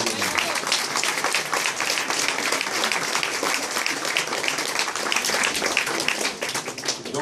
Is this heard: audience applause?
yes